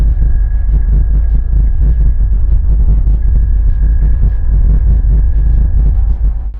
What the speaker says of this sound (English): So that a bicycle bell, for example, as heard here on Earth, would sound like this on the red planet.